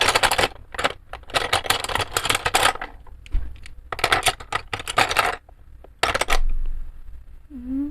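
Pencils tumble and scatter across a hard surface in a coloring hobby setting, producing several bursts of clattering wooden clicks and rattles with brief pauses between them, close and fairly loud, with no talking.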